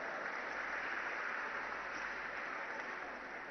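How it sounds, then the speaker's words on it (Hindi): An event audience applauds Asees Kaur with steady, even clapping that sounds somewhat distant and soft, holding constant for a few seconds before easing slightly. "जोरदार तालियां हो जाए"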